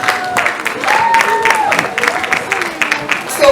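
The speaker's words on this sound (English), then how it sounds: "so please give yourself a round of applause." Audience of students and young engineers at an engineering event applauding, a dense burst of clapping lasting a few seconds with voices mixed in.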